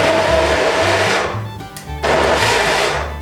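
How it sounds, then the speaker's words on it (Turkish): A smoothie blender whirs loudly as it mixes fruit, a harsh motor roar that dips briefly to near silence in the middle and then starts up again at full strength, with no talking. "Bakın sumuti makinesine yerleştiriyorum. Tek yapmam gereken şey elimle basmak."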